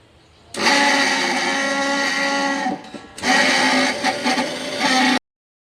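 A mixer grinder grinds soaked urad and moong dal in two loud, steady bursts with a short pause between them, the motor whirring hard throughout and no voices.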